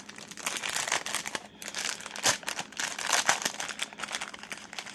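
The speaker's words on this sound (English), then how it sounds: "sorry for the crinkle" Plastic packaging around Temu craft bows crinkles and crackles up close while being handled during unboxing, with irregular loud bursts and rustles continuing throughout.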